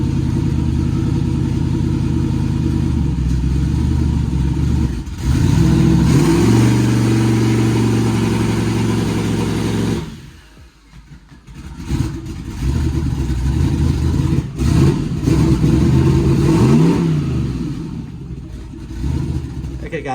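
A turbocharged car engine with nitrous is revved to spool the turbos, rising and falling in loud bursts with a quieter lull midway, close by and without talk.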